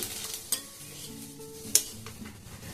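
Bay leaves and cumin hit hot oil in a pan, giving a soft sizzle under two sharp metallic clinks of a utensil against the pot, with a quiet kitchen bustle and no talk.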